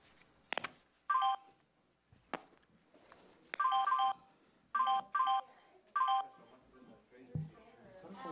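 Telephone keypad dialing tones: a series of short, sharp DTMF beeps in uneven bursts, some in quick pairs, with faint clicks and background noise between them.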